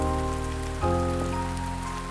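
Steady, even hiss of rain falling in a video game environment, continuous and close, with sustained musical tones humming underneath.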